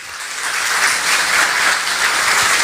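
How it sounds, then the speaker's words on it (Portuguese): A church congregation applauds during a Portuguese-language worship service, a steady, loud wash of clapping that fills the whole moment without pause. "Pode aplaudir ao Senhor."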